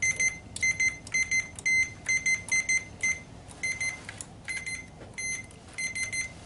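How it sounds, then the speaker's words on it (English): A multimeter set to continuity beeps while its probes are checked across the fuses of a new Simplex PowerStar load bank, giving a close, loud series of short electronic beeps in uneven bursts, some longer than others. "I just have my multimeter here turned to continuity, and we're just going to check."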